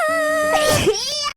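A video game character from Infinity Nikki lets out a single short, high-pitched sneeze, brief and close, ending abruptly in silence.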